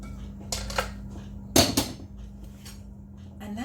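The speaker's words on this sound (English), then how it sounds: "we're going to spoon some of this into a bowl" Spoon clinking and scraping against a pot and bowl while serving beet and carrot soup sauteed with onions, a few sharp metallic knocks with a louder cluster in the middle over a faint steady hum.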